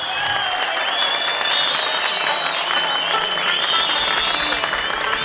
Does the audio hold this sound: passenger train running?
no